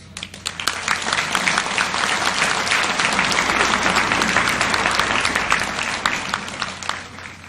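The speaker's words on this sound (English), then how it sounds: "Please join me in giving our graduates a thundering round of applause." Thunderous applause from the commencement crowd for graduating Philippine Military Academy cadets, dense continuous clapping building quickly and holding loud and close for several seconds before tapering slightly.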